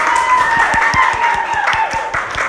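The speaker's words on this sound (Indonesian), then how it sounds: "Tepuk tangan untuk kelompok" A classroom of students applauding a group, steady clapping with some crowd noise and a few voices mixed in, close and fairly loud throughout.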